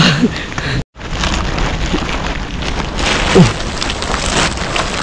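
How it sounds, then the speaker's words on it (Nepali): Steady heavy rain pattering on a surface in a jungle, loud and close, with a brief cutout near the start and no voices. "पानी परिदियो"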